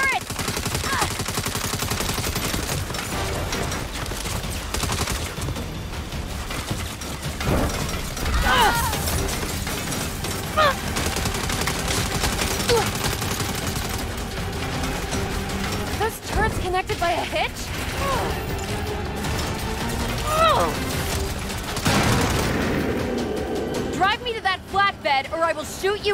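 Mounted turret gunfire rattles in rapid bursts during Saints Row gameplay, mixed with crashes, mechanical clatter and voices talking over the continuous action.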